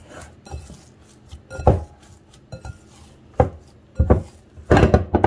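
Risen orange bread dough, made with orange pulp and juice, is punched down in a bowl: several dull thumps and knocks arrive irregularly, with louder clustered hits toward the end and quiet pauses between.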